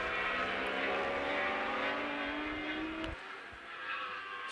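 Superstock 1000 racing motorcycles, including a Yamaha, at the Most circuit in the Czech Republic, holding a loud sustained engine howl with rising pitch through the gears, a sharp cut near the end, then the note resumes.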